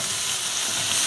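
Potatoes hitting hot tadka in a pan for an aloo chole curry, giving a loud, steady, continuous sizzle of frying oil throughout, with no voices.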